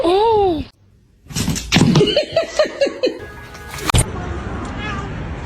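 A cat meows in short rising and falling calls near the start, followed by a burst of quick vocal sounds and laughter-like noises with people talking nearby.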